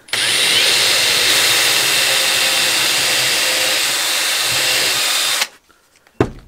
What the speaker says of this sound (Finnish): Mä oon porannut tuohon keskelle pienen